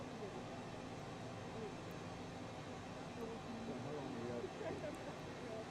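Cessna Citation Mustang (C510) jet engines spooling up to takeoff thrust in Microsoft Flight Simulator 2020, a steady broadband roar that holds even and slowly swells toward the end.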